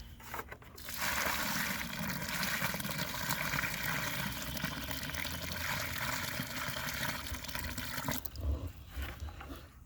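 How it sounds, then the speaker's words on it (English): Water pours steadily from a bucket into a planting hole for a lemon tree, a continuous close splashing rush that lasts several seconds before tapering off. "And I'll put some water in the bottom there."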